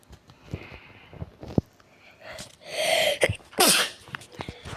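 A sneeze bursts out at close range, loud and sharp, preceded by small sniffs and clicks and followed by a second noisy outburst.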